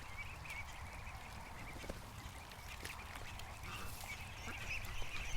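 Ducks quack now and then over a steady wash of outdoor noise, like rain and flowing water, at a moderate distance.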